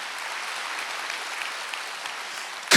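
Steady applause rises from a church congregation at a Wednesday worship service, many hands clapping in an even wash that runs throughout and ends with a sudden loud bump.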